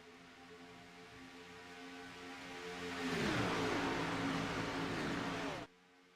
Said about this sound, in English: a pack of very fast moving cars here tonight